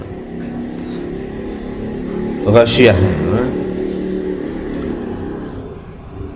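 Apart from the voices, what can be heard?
motorcycle engine revving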